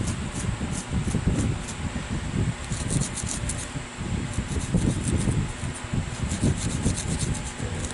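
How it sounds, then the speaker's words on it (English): Abrasive Scotch-Brite pad scrubbing the metal of a Smith & Wesson 622 pistol during refinishing, a steady close-up rasping rub with rhythmic strokes continuing throughout, no talking. "Scotch-Brite to help us get the rest of it and get a little shine to her"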